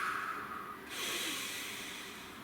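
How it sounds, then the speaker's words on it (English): A single deep breath taken close to the mic, a long airy exhale that shifts into a steady rushing inhale, heard on its own without speech. "Nice deep breath."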